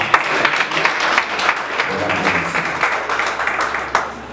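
A Haitian wedding assembly in Brazil applauding, with sustained, fairly loud clapping from many people and some voices mixed into the crowd noise.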